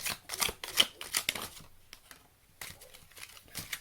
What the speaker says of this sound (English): let us get the tiny tarot deck here and do a few more tarot cards for Cancer